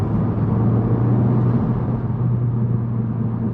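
Steady, loud road noise fills the cabin of a Honda Civic Type R FL5 coasting with the throttle off on grippy Michelin Pilot Sport 4S tires: a constant low droning rumble with a tonal hum, continuous and unbroken, with no voices.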